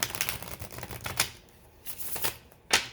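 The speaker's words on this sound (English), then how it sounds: "Some of these cards be so hard to shuffle." A deck of oracle cards is shuffled close by, producing rapid riffling, fluttering bursts with short pauses between and a final sharp snap.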